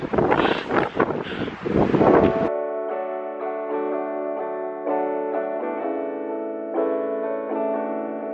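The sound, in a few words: strong wind blowing on a mountain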